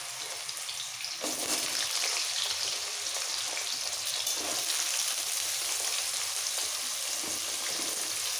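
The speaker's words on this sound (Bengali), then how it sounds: "এবার কেটে রাখা সব সবজিগুলো দিয়ে দেব" Chopped vegetables drop into hot oil for South Indian sambar and sizzle loudly, a steady bright frying hiss that swells after a brief quieter start and carries on without pause.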